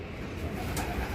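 Racing pigeons cooing at a loft after a derby race arrival, a low, soft murmuring coo over steady background noise and a brief hiss, continuous and close.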